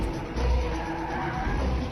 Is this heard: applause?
no